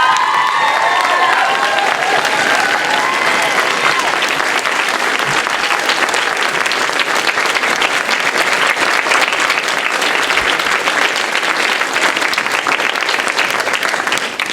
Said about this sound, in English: Would everyone please stand and let's give Jay a round of applause